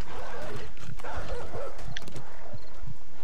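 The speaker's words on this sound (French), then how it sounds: "Putain! Une meute de chiens," A pack of dogs in the game 7 Days To Die, loud overlapping barks, growls and thumping footfalls in a busy chaotic burst.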